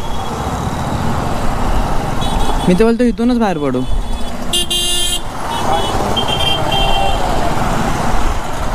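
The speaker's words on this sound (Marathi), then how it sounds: "एवढी का ट्रॅफिक झाली." Dense road traffic in a jam near Satara, with cars and trucks rumbling steadily, a long loud horn blast and a second shorter honk, while people talk over the noise.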